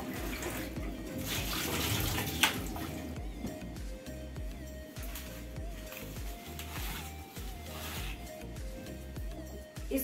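Tap water runs steadily while leafy greens are washed by hand in a home kitchen sink, with faint splashing and handling sounds under the flow.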